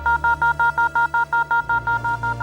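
A police wireless alert in a crime-drama control room gives a rapid run of about thirteen evenly spaced electronic beeps. They are loud and steady over a low hum, with no voices.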